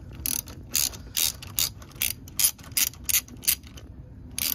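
A ratchet wrench loosening the negative terminal of a Ford Mustang Mach-E's battery, about a dozen quick metallic clicking bursts in a steady back-and-forth rhythm, close and clear with no talk.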